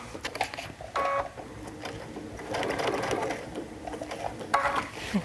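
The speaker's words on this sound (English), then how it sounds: "notice that I'm stitching only on the fabric, not on that stabilizer" A sewing machine stitches through fabric, running in short bursts with pauses between them, close and steady, with no talking over it.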